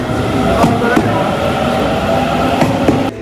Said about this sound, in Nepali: हाम्रो चाहिँ ठ्याक्क पछाडि ट्रेन आउँदैछ